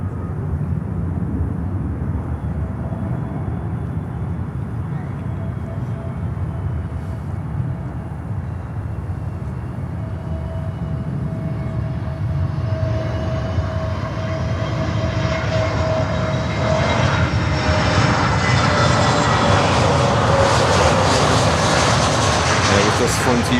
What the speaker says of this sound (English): let's go over to Atlas Air 767-300 coming from Medellin.